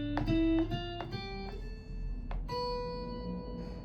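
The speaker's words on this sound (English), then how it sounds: "the B Locrian sounds like this." A guitar plays a scale in the B Locrian mode, single plucked notes ringing out one after another at a moderate pace, clear and close with no voices.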